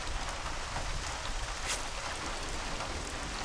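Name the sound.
rain in the video game Paranoia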